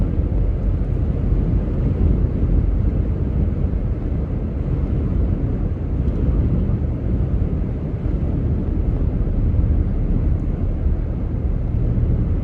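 Strong wind roars steadily across an open microphone on an open highway with no houses to block it, a constant low rumbling buffet with no breaks, loud and close throughout.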